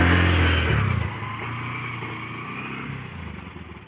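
A motorcycle engine runs steadily while it pulls a tiller through a cotton field, with a loud, close drone throughout and a slight drop in level about a second in.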